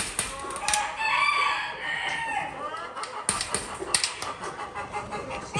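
English Game breed roosters crow and chickens cluck nearby in a poultry cage setup, several overlapping crows and clucks under scattered shuffling and clacking noises.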